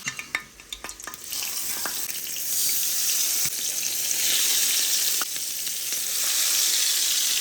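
Hilsa fish frying in hot oil, starting with a few utensil clinks and then becoming a loud, dense, continuous sizzle that swells and holds steady close by, with no talk.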